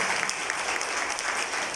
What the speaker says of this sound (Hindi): जोरदार तालियां जैसे आपको बताया गया